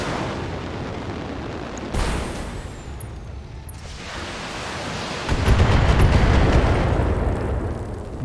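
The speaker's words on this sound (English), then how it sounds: "I guess those shots are meant for my mechs" Weapon fire strikes mechs in the BattleTech video game: a sharp blast near two seconds, a second crack near four, then a loud rolling barrage of explosions sweeping in around five seconds and rumbling on to the end.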